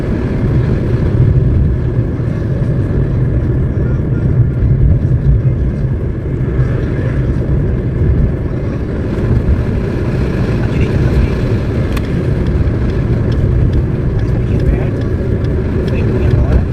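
A car engine hums steadily through a driving licence test, climbing a slight incline at about 40 km/h in third gear, a constant low rumble heard under people talking.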